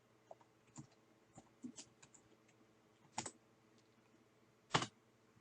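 Faint, sparse key presses on a computer keyboard, a few soft clicks scattered over several seconds with two sharper, louder strokes near the middle and end, alone in a quiet room.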